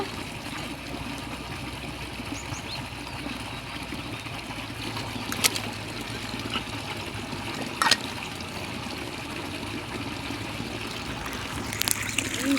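Water trickles and splashes steadily from a borewell pipe in a farm field nearby, a constant flowing sound broken by a few brief sharp clicks.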